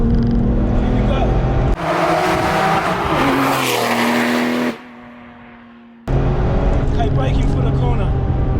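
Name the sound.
Porsche 911 996 Turbo X50 accelerating in third gear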